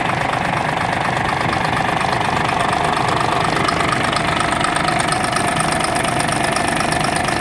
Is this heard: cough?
no